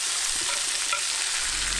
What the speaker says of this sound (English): now I'm going to add in my onions and my peppers and saute them for a couple of minutes